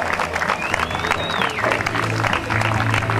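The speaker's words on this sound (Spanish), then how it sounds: "Fuerte el aplauso para Francisco." Applause and crowd noise ring out at a duathlon award ceremony for race winner Francisco, steady clapping mixed with voices, while someone talks over it.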